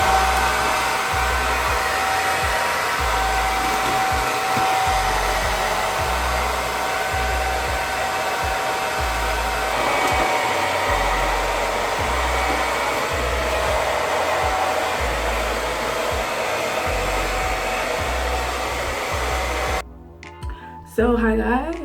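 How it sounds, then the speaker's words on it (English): A hair dryer blows steadily on natural hair, a continuous close whooshing hum with slight rhythmic fluctuation that runs for about twenty seconds before cutting off near the end. "just blow dry for a little bit, then let it air dry the rest of the time."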